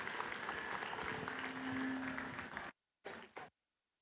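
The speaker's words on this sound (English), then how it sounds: "let's give another big round of applause for our last alliance and all of our alliances here today" Audience applause at an FTC robotics qualifying tournament, a dense steady wash of clapping from a large crowd that fades and then breaks off into a few short bursts before silence.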